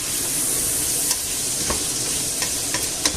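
Softened peppers, onion and garlic sizzling in a pan while being stirred, a continuous close hiss broken by a few light scrapes and taps.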